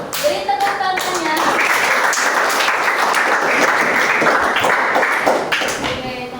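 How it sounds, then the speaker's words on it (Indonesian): Applause from a high school history class for a student group's presentation, a dense burst of many hands clapping that swells quickly and holds steady for several seconds before tapering, with light voices mixed in. "Beri tepuk tangannya."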